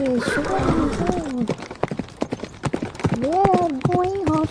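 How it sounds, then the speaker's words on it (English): Hooves clip-clop in a steady rapid patter as horses move past, mixed with neighing calls near the start and end and some voices in the background. "They are going horses."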